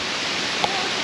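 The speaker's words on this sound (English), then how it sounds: "Beautiful little waterfall." A small waterfall in a rainforest gives a steady, dense rushing hiss of falling water, close and continuous throughout.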